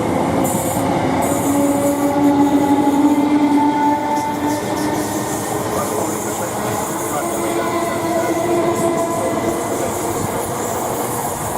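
A train rumbles steadily along as it approaches Stratford station platform, with a continuous rolling roar and faint wheel squeal throughout, heard from close by without talk.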